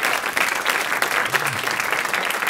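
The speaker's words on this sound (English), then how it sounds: "Round of applause for Mike." Audience applause for solo cellist Mike Block at a climate benefit concert, a steady dense clatter of many hands clapping at an even level for a couple of seconds with no voices on top.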